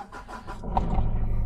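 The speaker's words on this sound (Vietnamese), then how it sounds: "để em lên nổ máy cho anh em mình nghe." A 2006 Ford Everest with a 2.5 turbo diesel engine and manual gearbox starts up: a few brief cranking pulses, then the engine catches and settles into a steady, close, fairly loud diesel rumble.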